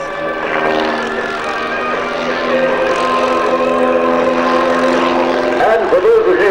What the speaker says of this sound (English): here's the hard push now as Chris Baru completes the giant stop sign in the sky, the outside octagonal loop